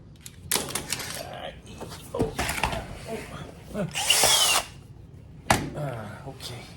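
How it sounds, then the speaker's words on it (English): A power drill drives screws into the bottom flange of a car quarter panel, giving several short bursts of whirring with pauses and clanks between them, close by and fairly loud. "put some screws here in this bottom flange and see how that looks"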